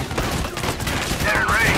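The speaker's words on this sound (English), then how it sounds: "Keep firing!" Rapid bursts of gunfire in the Valkyria Chronicles 4 tactical video game, dense and continuous over a short stretch, with in-game battle sounds and a faint electronic tone near the end.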